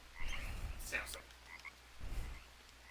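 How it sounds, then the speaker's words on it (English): Poison dart frogs croak in the jungle survival game Green Hell, a few soft, separate calls scattered across three seconds against quiet background ambience. "I picked up a poison dart frog after I killed it."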